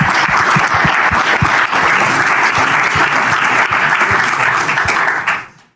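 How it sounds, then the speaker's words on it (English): A room full of people clapping loudly and steadily as an audience applauds, with individual sharp claps standing out before the sound cuts off abruptly near the end. "Give Dave a round of applause"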